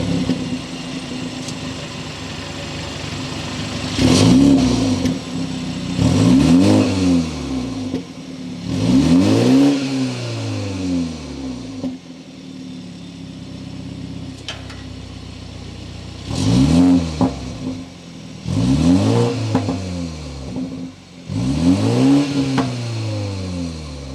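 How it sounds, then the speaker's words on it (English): A 2021 BMW 330i xDrive revs hard through its twin exhaust in repeated bursts, each climbing and falling, with short pauses between; loud and close, no talking. "Let's go ahead and hear that twin-powered exhaust"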